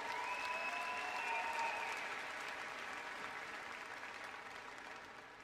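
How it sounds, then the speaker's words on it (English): Applause from a crowd at a university student-athlete graduation celebration, steady clapping that gradually fades, with a faint whistle near the start. "give a round of applause to everybody here to help support you."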